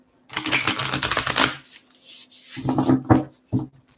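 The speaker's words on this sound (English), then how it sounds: "one more shuffle here" A deck of tarot cards riffles in two close, dry bursts, a longer shuffle followed by a shorter one with a final tap.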